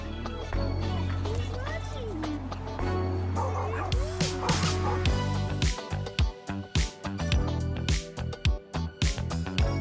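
Several dogs on a boat bark and yip in quick bursts as a dolphin surfaces beside it, growing more frequent toward the end, over background noise and some voices.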